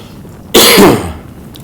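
A single harsh cough from a person recovering from coronavirus, close and loud, fading into a short raspy tail and then quiet.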